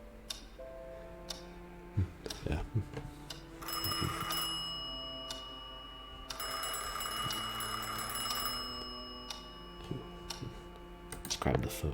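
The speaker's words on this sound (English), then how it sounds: "A majestic grandfather clock was gradually ticking nearby." A majestic grandfather clock ticks steadily in the horror adventure game Scratches, woven through ambient music and room tones, while a voice briefly speaks.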